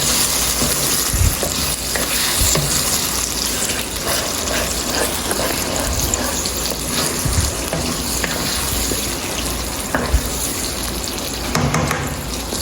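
Spaghetti sauce is stirred in a pan, a loud continuous sizzling bubble with wet scraping and sloshing from the spoon, nearby and steady throughout, no voices.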